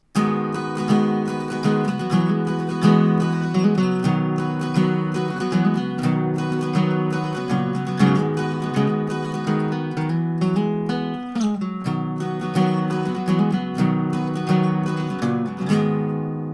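Strummed and picked acoustic guitar chords from the intro of a song ring out in a steady, melodic pattern, close and clear, with no voices over the playing.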